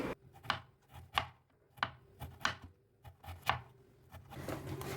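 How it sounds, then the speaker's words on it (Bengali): A knife chops through banana stem (thor) on a board in a steady run of about seven crisp, close strikes at a loose rhythm, with a soft rustle between cuts and no talking. "থোড়টাকে কেটে রাখলাম, কেটে ধুয়ে রাখলাম।"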